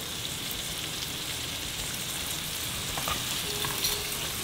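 Onion-type aromatics and achiote sizzling in melted margarine in a pan, a steady close frying crackle with faint stirring, continuous and even with no voices.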